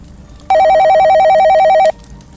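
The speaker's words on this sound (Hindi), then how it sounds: "ओह, एक और फोन।" A telephone rings loudly in one sustained electronic burst, a warbling trill alternating rapidly between two pitches for about a second and a half before cutting off, with quiet room tone before and after.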